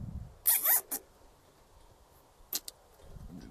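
Zip tie ratcheting tight around a knot on a box for an antenna pulley system: a quick buzzing zip, a short click, then two brief ratchet bursts a moment later, close and clear.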